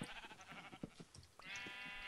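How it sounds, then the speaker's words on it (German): Sheep bleating in the video game Minecraft, a short bleat followed by a longer sustained bleat, mid-distance and moderately loud, over soft background game sounds. "Ey, die ganzen Schafe hauen ja ab."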